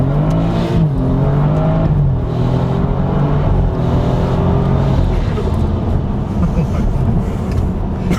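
A modified BMW F30 accelerates hard in first gear, its engine note climbing loud and close before settling into a sustained, strained roar.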